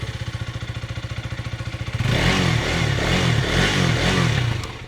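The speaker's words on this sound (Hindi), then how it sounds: "बाकी एक बार एग्जॉस्ट साउंड भी सुनाता हूँ कि एग्जॉस्ट साउंड जो हो कैसी रहने वाली है।" A KTM Duke 250 motorcycle's exhaust, a steady thumping idle that swells into a louder, rougher rumble with a few revs, heard up close and alone.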